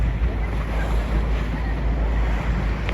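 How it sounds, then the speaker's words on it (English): Water and surf wash steadily inside a very large sea cave during a boat trip, a continuous low rushing roar with wind buffeting the microphone throughout. "This is a sea cave from like another. It's a very big cave."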